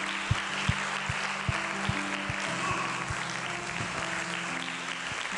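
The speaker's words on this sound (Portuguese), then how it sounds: "Dê uma salva de palmas para o Senhor Jesus." Congregation in a church bursts into sustained applause, a dense wash of clapping with steady rhythmic claps standing out near the front throughout.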